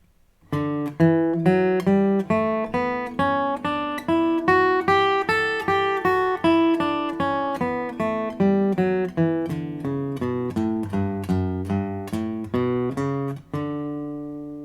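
A guitar plays a slow major scale, one plucked note at a time, climbing steadily and then descending again, clear and close with no talking.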